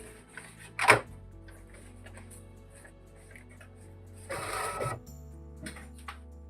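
An Epson LX-300 II dot matrix printer feeding paper gives a low steady motor hum with a sharp clack near the start and a longer rattling burst of mechanism noise later, close and moderately loud.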